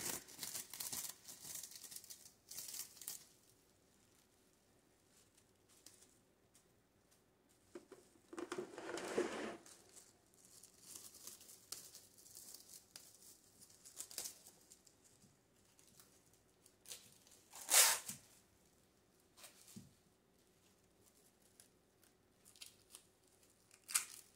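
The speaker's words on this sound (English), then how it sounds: "now I'm going to go ahead and drape another piece of this plastic wrap going across the side here" Plastic wrap is draped and pressed over a cheesecloth ghost craft, making sporadic crinkling and rustling bursts separated by long quiet gaps.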